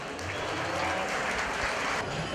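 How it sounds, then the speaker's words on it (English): A crowd applauds at a 4-H and FFA market steer show at the Lawrence County Fair, the clapping dense, steady and sustained at close range for the whole stretch. "Let's give those three a round of applause."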